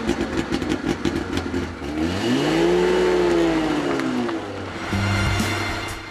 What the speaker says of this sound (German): Eine Besonderheit des kleinen Roadsters ist der typisch hochfrequente Sound des Zweitaktmotors.